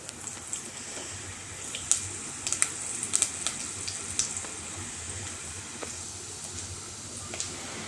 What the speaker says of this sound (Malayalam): കടുക് പൊട്ടിയാൽ ഉടനെ നമ്മളുടെ ഉഴുന്നിനെ അങ്ങോട്ടേക്കുക.